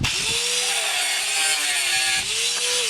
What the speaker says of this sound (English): Cut off a piece of the 1/4 inch rod